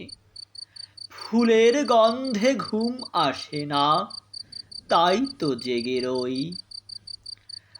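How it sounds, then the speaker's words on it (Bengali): Crickets chirping at night, a thin, steady high-pitched trill that continues faintly behind a person reciting a Bengali poem aloud. "লেবুর তলে পুকুর পারে ঝিঝি ডাকে ঝোপে ঝাড়ে"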